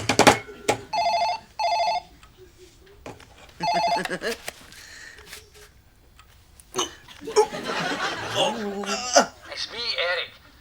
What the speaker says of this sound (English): 5 bloody times I've tried to phone you and it just kept ringing out